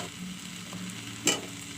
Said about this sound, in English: Put in the fried potatoes.